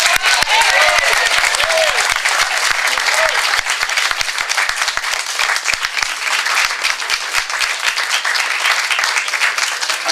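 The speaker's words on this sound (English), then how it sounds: "So let's give them all a big round of applause" Crowd applause at Placerville Hardware's 160th anniversary celebration in 2012, loud, dense clapping from many people filling the whole stretch, with faint voices mixed in.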